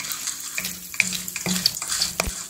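Cumin seeds, urad dal, chana dal and curry leaves frying in about a tablespoon of oil, giving soft, intermittent sizzling and crackling with a few light stirring knocks and clinks, moderately close.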